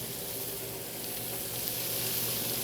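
Bacon sizzles on a Blackstone griddle outdoors, a loud, even crackling hiss that holds steady throughout without speech.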